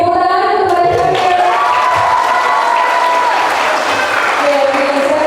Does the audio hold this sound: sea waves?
no